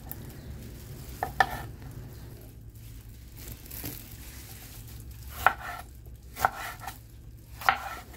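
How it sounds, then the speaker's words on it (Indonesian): A knife chops chili peppers on a cutting board, a few sharp, separate knocks spaced irregularly over a low steady background hum, close by. "Nah, ini dipotong sampai selesai atau kalian boleh potong sesuai selera aja"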